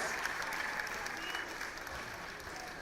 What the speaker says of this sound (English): Can we get her a huge round of applause?